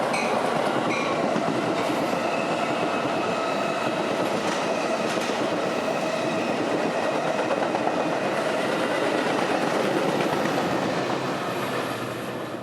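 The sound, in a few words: Metra commuter train passing in Chicago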